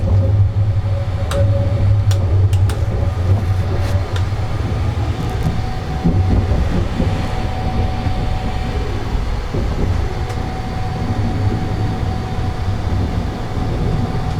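A Sunrise sleeper express train rumbles steadily along the rails at night, a loud continuous roar with faint clicks and rattles, heard from inside a single deluxe compartment.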